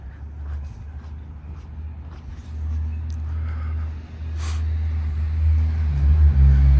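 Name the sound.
car arriving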